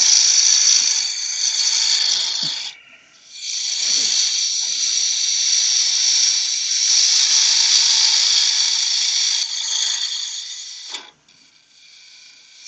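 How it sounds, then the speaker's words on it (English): A 3/8 bowl gouge rough-shapes a piece of wood on a spinning wood lathe, giving a steady loud hissing, rasping cut that runs almost continuously, broken by two brief pauses where the tool lifts off. "Use the 3/8 bowl gouge to rough shape this."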